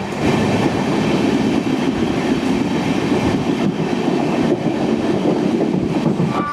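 The Sealdah–Varanasi Amrit Bharat Express running, heard from inside the coach as a loud, continuous rumble with a steady rhythmic clatter of wheels on rail joints, with no talk.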